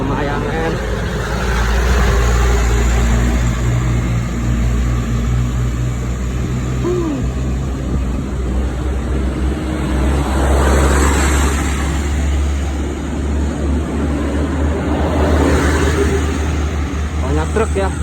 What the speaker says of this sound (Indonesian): Banyak truk ya.